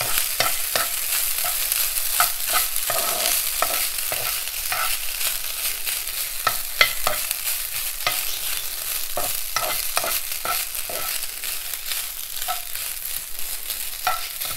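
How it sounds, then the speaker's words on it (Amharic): Cracked wheat (kinche) being stirred in a pan over lowered heat, a steady scraping and soft sizzle with frequent spoon strokes throughout, close and fairly loud, no talking. "እሳቴን ቀነስ አደርግና በደንብ አገናኛለሁ።"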